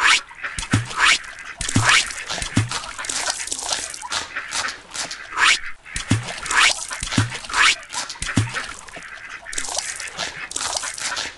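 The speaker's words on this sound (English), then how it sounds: "Let's throw the bread towards the ducks to feed them." Cartoon ducks quack repeatedly while being fed bread in an educational iPad playground game, short clustered calls recurring over busy, bright game sounds throughout.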